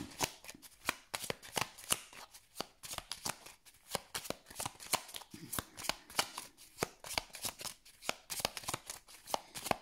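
Tarot cards handled, shuffled and laid down on a table in a dense run of quick, crisp flicks and slaps, close and fairly quiet, with no talk.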